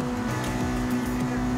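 A Dodge Charger's engine drones steadily in the racing game Forza Horizon 2, a humming, tonal note heard from the front at moderate loudness for a short stretch.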